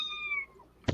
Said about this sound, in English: I hear a meow.